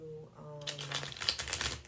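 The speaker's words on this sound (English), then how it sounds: "Let me shuffle once more" Tarot cards being shuffled: a quick riffling flutter of cards running for about a second, close and soft, right after a few spoken words.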